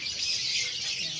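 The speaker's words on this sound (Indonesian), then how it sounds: "Burungnya ramai sekali teman-teman." Crowd of birds chirping at a bird market in Malang, a dense high twittering chorus heard steadily in the background at moderate volume with no voices.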